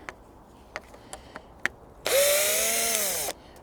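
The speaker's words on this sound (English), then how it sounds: "just gonna get my drill." A power drill whirs for about a second to back screws out of allotment poles, one short high-pitched run with a pitch sweep, after several sharp taps and knocks.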